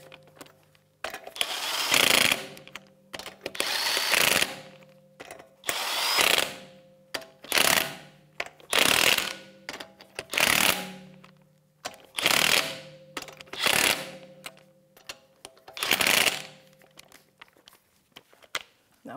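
A socket turns the wheel lug nuts on a 2011-2019 Ford Explorer during a rear brake job, giving about eight regular bursts of ratcheting, whirring tool noise, each followed by a short pause.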